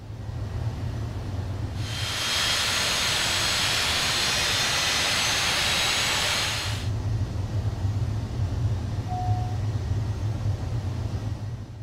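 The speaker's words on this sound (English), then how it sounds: "push this left engine start button and once again the engine is firing up" The left jet engine of a Cessna Citation Longitude starts in a flight simulator: a loud rushing roar swells in, holds for several seconds, then falls back to a steady low rumble.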